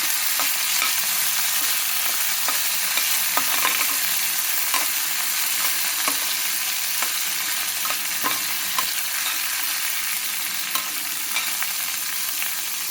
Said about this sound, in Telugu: ఇది కూడా వేసి వేయించుకోవాలండి. అందులోనే ఉల్లిపాయలు కూడా